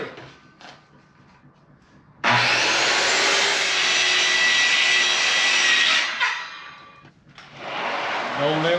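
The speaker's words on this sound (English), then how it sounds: "And we're going to saw them both together." A saw cuts through two pieces of plywood screwed together, a loud, harsh, sustained buzzing cut lasting several seconds, then a pause before cutting resumes.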